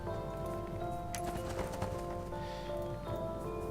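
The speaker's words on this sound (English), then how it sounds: "let me get rid of the horse" Horse hooves clip-clop steadily in the video game ArcheAge, a moderate, continuous patter blended into dense game ambience and music.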